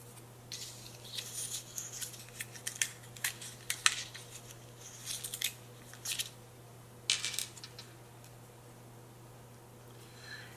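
Scissors cut out paper planner pieces in irregular bursts of crisp snips and rustles, close and quiet, with pauses between cuts over a low steady hum.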